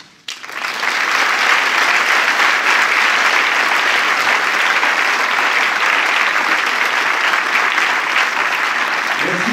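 A large cinema audience claps continuously for a film crew, loud and steady, after a brief quiet moment at the start.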